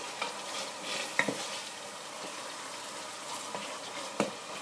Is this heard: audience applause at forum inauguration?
no